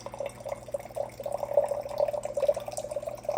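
Filtered water flows steadily from a TOKIT countertop reverse osmosis filter into a container, a continuous close trickling and bubbling fill with no talk.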